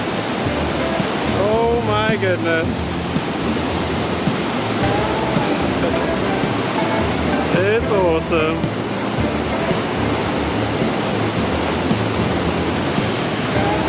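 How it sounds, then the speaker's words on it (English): Waterfalls along a trail near Hopewell Rocks on the Bay of Fundy, a loud, constant roar of falling water filling the whole scene, with someone briefly talking over it. "So now I get this uninhibited view of this awesome set of waterfalls."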